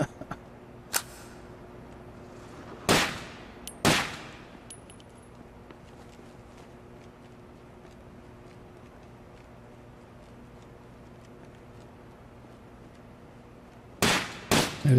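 Gunfire in the tactical shooter Takedown: Red Sabre: a handful of sharp single shots at about 1 s, 3 s and 4 s, a quiet stretch, then a fresh burst of three near the end, over a low steady game hum.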